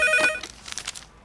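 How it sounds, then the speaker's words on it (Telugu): A telephone rings loudly in short bursts at the start, its tone cutting off quickly and leaving only faint room noise. "అంజలి, నీకు ఫోన్ అమ్మా."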